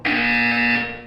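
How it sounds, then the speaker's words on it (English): A single steady electronic buzzer tone from the video game Portal 2, loud and sustained for about a second, then fading slightly at the end, with no talk over it. "When you hear the buzzer, look up at the ceiling."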